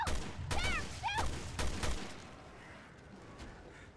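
Gunfire in Resident Evil Revelations 2: a few sharp shots in the first two seconds, mixed with ricochet-like whistles, then the sound trails off into a quieter ambient tail.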